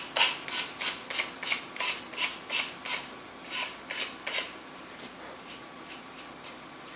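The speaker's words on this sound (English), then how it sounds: "you can sand that all the way up to a sharp point if you like" A small balsa-style glider part is sanded to a sharp point by hand, about twenty short rhythmic rasping strokes, close and clear, fading slightly toward the end.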